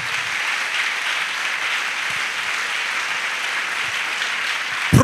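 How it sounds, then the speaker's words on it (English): Steady applause from a church congregation fills the whole stretch, dense and even, with a louder burst at the very end. "Clap for Jesus."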